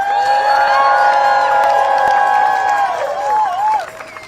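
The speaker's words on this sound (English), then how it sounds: "Welcome her, clap her as she comes up." A large outdoor anti-Trump protest crowd in the United States cheers and claps as a Washington Teachers Union speaker comes up, with a loud, sustained roar of shouting voices over scattered clapping that drops off near the end.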